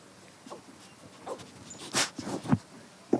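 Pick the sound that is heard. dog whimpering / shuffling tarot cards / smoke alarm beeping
dog whimpering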